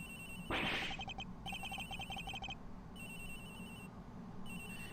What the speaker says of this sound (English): It's ringing from somewhere.